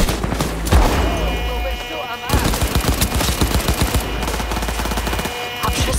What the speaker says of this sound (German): Hab Schüsse gehört